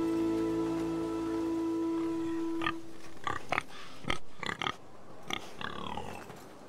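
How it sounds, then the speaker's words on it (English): A pig grunts and oinks in a few short, snorting bursts within the medieval-fantasy video game Telltale's Game of Thrones, following a steady tonal game background that fades out, with no talking. "Pig."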